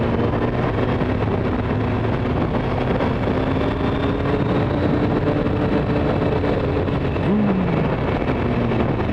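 A Suzuki motorcycle engine, from a ride with a Hayabusa and a GSX-S 750, hums steadily at about 4,000 RPM in second gear on a river valley road, with a constant, fairly loud drone and rushing wind throughout.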